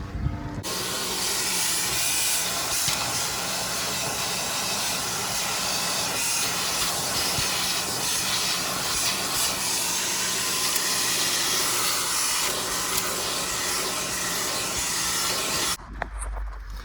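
Continuous loud hissing spray from carpet cleaning inside a Honda car, steady and broadband throughout, then stopping abruptly near the end.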